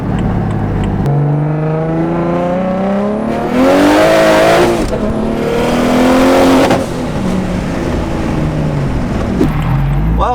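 A car drives and accelerates, its engine note climbing in loud, rising revs over about ten seconds, with pitch sweeps and brief surges.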